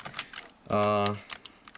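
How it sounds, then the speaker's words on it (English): Keys clatter on an old 1998 Compaq Deskpro computer keyboard in soft, scattered taps, with a brief steady humming tone rising in the middle. "So this is a keyboard I think probably went along with it."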